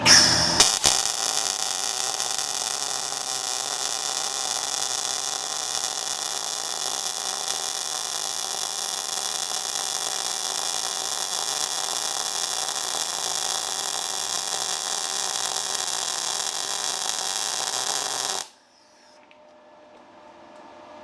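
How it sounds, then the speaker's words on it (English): YesWelder FIRSTESS MP200 MIG welder running a bead on a small steel block, a continuous steady crackling hiss for about eighteen seconds that cuts off abruptly into quiet room tone. "All right, first attempt with the MIG."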